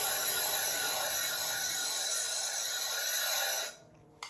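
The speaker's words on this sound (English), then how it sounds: "that's the demo for trimming through the bisque chuck" A tungsten carbide trimming tool shaving clay on a bisque chuck gives a continuous close, bright rasping scrape for several seconds, then stops abruptly, leaving near silence and one small knock.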